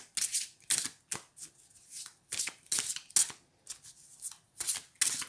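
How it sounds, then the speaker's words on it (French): Tarot cards being shuffled by hand in repeated quick riffling bursts, close and crisp, with brief pauses between each shuffle and no talking. "Alors je mélange. Si on a des cartes qui tombent, je les prends."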